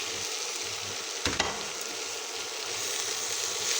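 Mushrooms and already-fried potatoes hitting a pan of spice mix, giving a steady broadband sizzle with a brief sharper burst as they go in, then continuous frying with faint stirring beneath.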